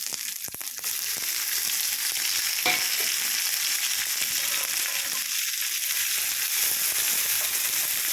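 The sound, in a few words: chopped tomato sautéing in a pan for pumpkin palya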